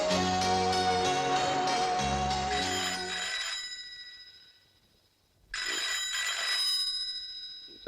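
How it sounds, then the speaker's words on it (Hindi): A telephone rings loudly in a bright, trilling electronic pattern, stops for about two seconds, then rings again. "रात के किसका फोन है?"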